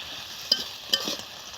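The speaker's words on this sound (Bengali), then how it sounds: "আমার সিম আর আলুগুলো ভাজা হয়ে গেছে কিনা হালকা একটু নাড়াচাড়া দিয়ে নিই" Flat beans and potatoes fry in a pan with a steady sizzle, while two sharp scrapes of a spatula stirring them stand out close up.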